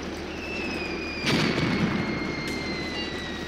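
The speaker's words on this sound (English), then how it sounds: "There's also a lot of artillery fire coming in." Artillery fire in the tank battle game Graviteam Tactics: Mius Front, a deep muffled boom landing partway through over a steady rumbling battlefield bed with thin whistling tones, followed by a fainter distant thud.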